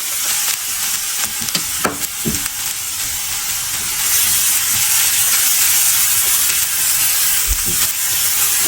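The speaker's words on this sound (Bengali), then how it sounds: "আমি এটা এখন অনেকক্ষণ ধরে কষাবো ব্রাউন ব্রাউন কালার করবো" Chopped onion fries in a pan with cardamom and cloves, a loud hissing sizzle that swells midway, with sharp clatters and scrapes of stirring near the start and end and no voices.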